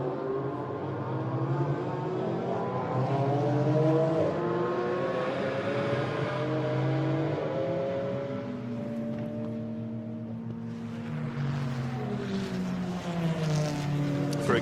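GT4 race cars lap Hockenheim during qualifying, engines whining through rising and falling gear changes as cars pass at mid-distance, loud and continuous under trackside ambience.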